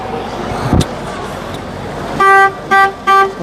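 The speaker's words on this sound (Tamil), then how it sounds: "இந்த ஓல்டு உல்ஃப் ஹார்ன், ஓல்டு ஹார்னுங்க." An old vintage Fiat car horn honks three times at a car expo, a short blast followed by two quicker toots, loud and close over a background of idling engine noise.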